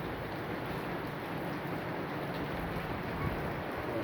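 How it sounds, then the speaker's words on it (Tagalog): Soft, steady patter of rain, a faint continuous hiss with no voices. "Parang kahapon ko lang sinabi na ulan. Ngayon pala ulan guys."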